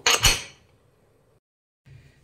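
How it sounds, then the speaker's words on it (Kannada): A pressure cooker lid is closed over soaked lima beans: two quick metallic clunks up close, a fading ring, a silent gap, then a softer brief scrape. "ಕುಕ್ಕರ್ ಲಿಡ್ ಕ್ಲೋಸ್ ಮಾಡಿ"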